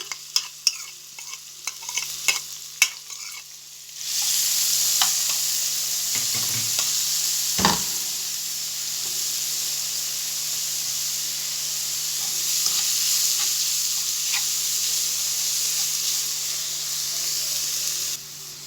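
Grated onion drops into hot butter and oil in a pan and starts a steady, loud sizzle that continues to the end. A few light clicks and pan sounds come first, and a brief stir is heard partway through.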